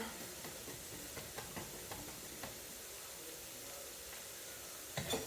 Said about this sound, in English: We're just roasting them very quickly, and it's literally like only minutes.